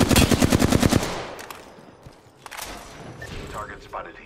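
Rapid automatic gunfire in a multiplayer battle royale video game, a loud fast burst of shots lasting about a second, followed by scattered distant shots and game sounds.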